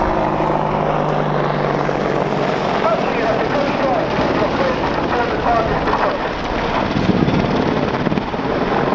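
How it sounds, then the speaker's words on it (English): An Army Air Corps Apache attack helicopter at an air show thunders overhead with loud, continuous rotor thump and engine roar, and a commentator's voice sits under the noise. "the Apache is now conducting a 360 wing over and is going to position into the hover in front of us"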